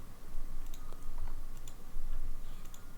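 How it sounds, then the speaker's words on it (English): A computer keyboard is typed on in light, sparse clicks and ticks, quiet and close, over a low steady background hum. "Definitely let me know in the comments if the keyboard sounds vibey or not."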